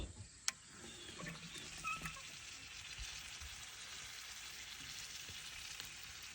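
Sausage and bacon frying in a pan for a breakfast fry-up give a soft, steady sizzle with a few scattered crackles and pops, fairly quiet and with no talking.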